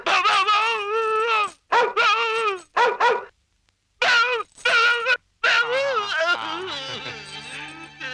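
A voice imitates a dog in a Malayalam film scene, giving several loud, harsh barking bursts, a brief pause, then more barks that trail off into groaning, whimpering sounds.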